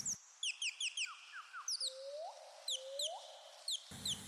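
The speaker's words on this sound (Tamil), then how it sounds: "காதுகளில் பறவைகளின் சத்தங்கள்" Several birds chirp and tweet in quick, high-pitched bursts, with two longer rising whistles in the middle, clear against a quiet background.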